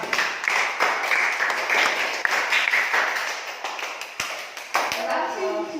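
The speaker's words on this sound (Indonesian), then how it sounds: "tepuk tangan dulu, tepuk tangan" A group of students in a physical-education class clap their hands together, a loose, uneven patter with a few sharp distinct claps near the end, while a teacher's voice talks over it.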